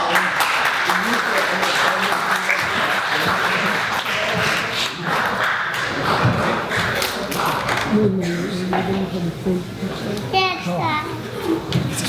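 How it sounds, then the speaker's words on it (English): Audience applause at a 12th grade high school graduation ceremony, a dense sustained roar of clapping mixed with children's voices and chatter, with a burst of whoops and cheering near the end. "Please invite him with a beautiful round of applause."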